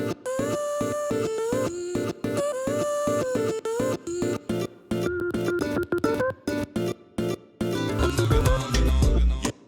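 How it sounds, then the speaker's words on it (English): Choppy fragments of a sampled guitar part stutter and cut in and out in a glitchy rhythm, melodic snippets rearranged, ending in a denser, noisier burst. "It is just like a full guitar part that I took from Splice, and I really chopped it up"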